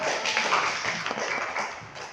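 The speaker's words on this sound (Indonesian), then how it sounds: "silakan kasih tepuk tangan" A class clapping hands in a classroom, a short, fairly quiet patter of claps heard alone.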